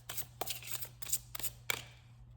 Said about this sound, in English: So let me grab the deck and give it a shuffle.